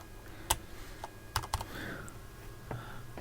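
Keycaps are being pried off a computer keyboard under repair, giving sparse sharp plastic clicks and snaps spaced irregularly over quiet room tone, close to the microphone, without speech.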